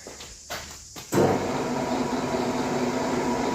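A lathe rough-machines the journal of a billet crankshaft for an FZR125 turbo engine. A steady, close mechanical hum starts abruptly after a few quiet ticks and runs on evenly to the end, with no talking.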